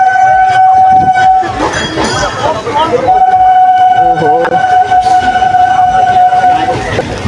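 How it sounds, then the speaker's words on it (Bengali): A train pulls into a station with a loud sustained horn blast, rumbling wheels and rattling carriages, near and forceful, while a man exclaims briefly over the noise. "গাইস ট্রেনটা আসতে দেখো"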